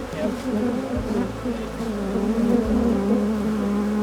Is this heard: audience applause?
no